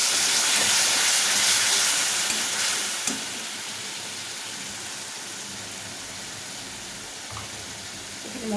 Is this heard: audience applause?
no